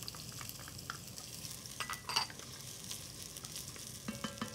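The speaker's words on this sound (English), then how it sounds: "Now that's cooked a little bit, we're gonna add in our diced onions." Diced onions fry in oil in a pan for a pork tenderloin and apple chutney, a steady soft sizzle with faint stirring scrapes and a few light utensil clinks, no talking.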